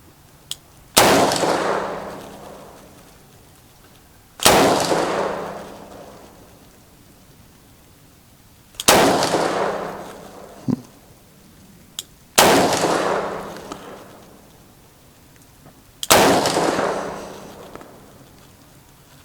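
Five sharp, loud gunshots from a short-barrel revolver, each a sudden crack followed by a decaying outdoor rumble, spaced a few seconds apart, with a faint smaller click between two of them.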